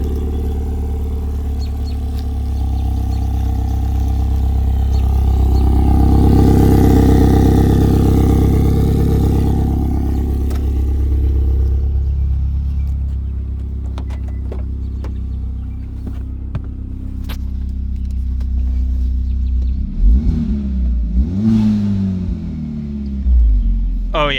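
A car engine idles and revs through a newly changed exhaust, a loud, deep, fruity rumble that swells in the first half and then settles to a lower idle, with brief talk near the end.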